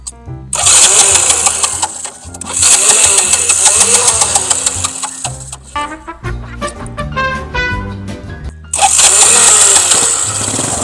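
A nearly fifty-year-old Honda C70 Pitung motorcycle engine cranks and fires into a loud, steady idle, drops out briefly amid clattering mechanical noise, then catches again and runs strongly.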